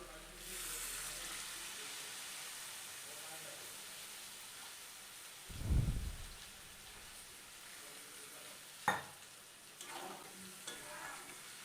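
Potatoes, taro and eggplant sauté in oil for a fish curry, giving a faint, soft sizzle with quiet stirring scrapes and a few brief louder knocks and bumps of a utensil.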